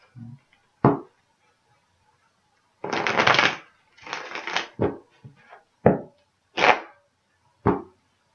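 A deck of tarot cards shuffled close up in short separate bursts: a few sharp single slaps, then two longer riffling rushes followed by quick crisp snaps, with pauses between and no speech.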